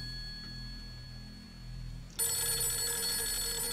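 A telephone in the video game Fatal Frame 3 starts ringing abruptly after a quiet, humming stretch, its bright trilling ring continuing steadily and fairly loud, with no talk over it.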